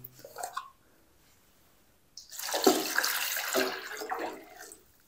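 Water pours into a pan of cut potatoes in a sustained rushing, splashing stream lasting a few seconds, after a brief clatter, close and fairly loud.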